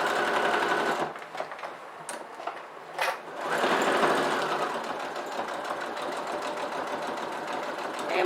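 Sewing machine stitching a handbag seam, running in steady rapid bursts with brief pauses between stretches of stitching, close and fairly quiet.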